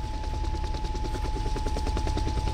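A video game helicopter drones steadily with a rhythmic rotor chop and a steady high whine, loud and close throughout.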